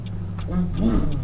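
A simulated 6.2-litre truck engine in Euro Truck Simulator 2 revs and rumbles while someone talks over it, the engine drone rising and falling in the background.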